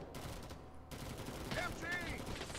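Gunfire in the Vietnam War video game Rising Storm 2: Vietnam, a quick burst of shots followed by scattered cracks and whizzing rounds, moderately distant in a busy battle mix.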